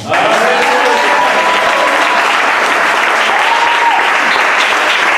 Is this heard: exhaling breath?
no